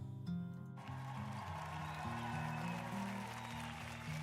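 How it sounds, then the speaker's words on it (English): A crowd claps steadily over sustained background music, the applause starting abruptly and continuing evenly to the end. "let's give Spaghetti a round of applause."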